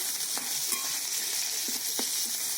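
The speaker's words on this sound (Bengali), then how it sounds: "হলুদটা দিয়ে আদাটা কষলে কী হয় তেলটা ছিটকে গায়ে এসে পড়ে না এটাকে খুব ভালো করে কষে নিতে হবে" Ginger and turmeric sautéing in hot oil make a steady, dense sizzle throughout, with a few faint clinks of a stirring spoon, close by and with no voice.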